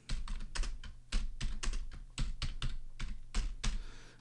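Someone types steadily on a computer keyboard, an uneven patter of close, crisp keystrokes with brief pauses and no talking.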